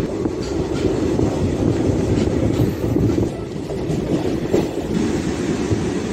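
A DEMU train pulls out of Vidyanagar station, its steady rumble and rhythmic wheel clatter heard from on board, loud and continuous throughout.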